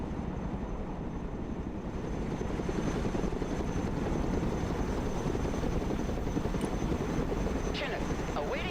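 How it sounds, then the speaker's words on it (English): A Chinook heavy transport helicopter in the Broken Arrow war game drones with a steady, dense rotor roar that fills the whole stretch without letup, with a faint chirp near the end. "Chinook, awaiting mission."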